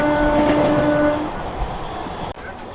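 A Vande Bharat Express train passes close by at speed, a loud rumbling rush with a high tonal whine that fades, then an abrupt drop in level near the end.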